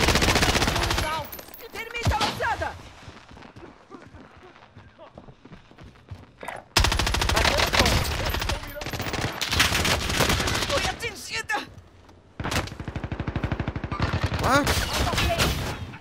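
Bursts of automatic gunfire and rapid shots in the battle royale game Call of Duty Warzone, loud and dense in long stretches with quieter gaps, with a player talking between them.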